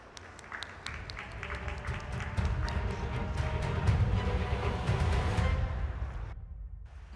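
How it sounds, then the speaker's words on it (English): Audience applause at a live business talk on stage, steady dense clapping that swells and holds for several seconds before cutting off, a roomful of hands heard from within the crowd. "Give them a round of applause"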